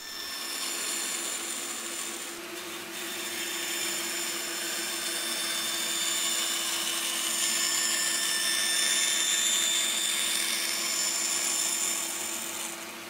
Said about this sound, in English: then I can take it to the bandsaw and get the waste cut out